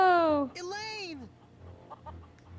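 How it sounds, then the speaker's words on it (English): Chickens cluck and squawk in The Curse of Monkey Island video game, a loud rising-and-falling call up front followed by a few softer clucks over a low background hum. "Look at all the chickens."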